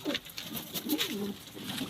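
Young pigeons coo softly in low, rolling tones, faint and somewhat distant, mixed with light scratches and clicks, with no voices.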